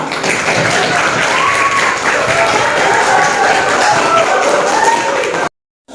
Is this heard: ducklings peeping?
no